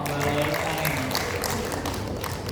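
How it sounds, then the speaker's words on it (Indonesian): Audience applause at an education talk show, a steady dense wash of clapping throughout, fairly loud and continuous, with some faint voices mixed in. "Tepuk tangan dong."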